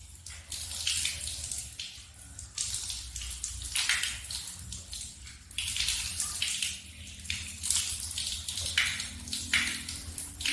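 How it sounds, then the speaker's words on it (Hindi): Running water splashes steadily in bursts as it is poured over the arms during wudu ablution washing, close and fairly loud with no talking. "इस तरीके से ऊपर से इधर पानी चढ़ा लें।"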